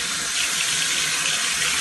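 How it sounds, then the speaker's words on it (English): Tap water runs steadily over hands being rubbed together at a sink, a continuous close broadband hiss with no talk, lasting about two seconds. "So first you take some water on your hands and rub them."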